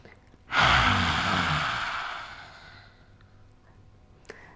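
A single deep breath in a guided breathing session: a loud, long airy inhale or exhale rises sharply, holds, then fades slowly over a couple of seconds, with no talking.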